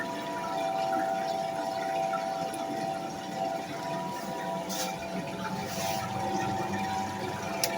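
A new Brandt washing machine drains, a low steady pump hum with water gurgling and rushing through the hose, fairly faint and continuous with no talking.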